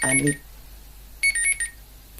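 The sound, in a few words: alarm clock ringing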